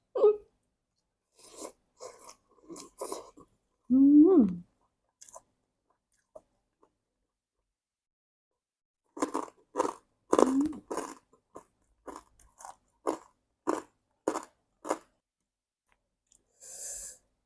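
Close, crisp crunching and chewing of fresh garden vegetables eaten with spicy Thai papaya salad, coming in bursts with short pauses and a long quiet stretch midway, with breathy mouth noises throughout.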